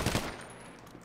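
Close gunfire in a multiplayer video game set in a favela, with a quick burst of a few shots at the start that fades into a brief quiet tail.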